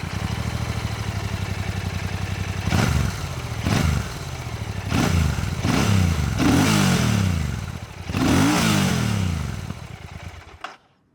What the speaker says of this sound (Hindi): तो ये था क्लासिक 650 का एग्जॉस्ट नोट